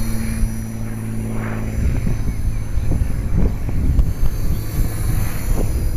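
An HK 450 RC helicopter flies aerobatics outdoors, its rotor and motor whine rising and falling in pitch at moderate distance, with gusts of wind buffeting the microphone.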